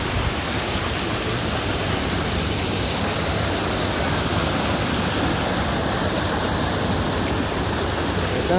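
Warm river water from a hot spring, swollen with retained rainwater, rushes steadily and loudly as a continuous broadband flow close by, with no talk over it.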